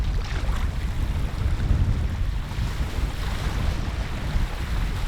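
Gusty headwind on a lake during a canoe trip, a loud constant rush of wind buffeting the microphone over choppy water, heard alone.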